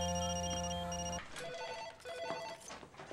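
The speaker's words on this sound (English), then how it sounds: "I guess it's many phone calls." A telephone rings loudly in a scene from the 2003 film Freaky Friday, a sustained electronic ring that stops abruptly after about a second, followed by mixed film background sound.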